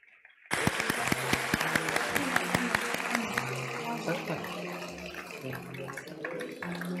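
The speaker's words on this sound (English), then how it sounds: "A big round of applause, please." Audience applause at the International Hrant Dink Award 2024 ceremony bursts in after a quiet moment, a dense, sustained clapping crowd that eases slightly toward the end.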